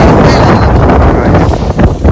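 Strong wind buffets a phone microphone in a sesame field during harvest, a loud, rumbling roar with gusty swells that nearly drowns out a faint voice.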